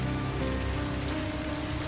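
Steady rain falls on a cold, grey day under heavy clouds, a dense even hiss with a low rumble, loud and continuous with no talk.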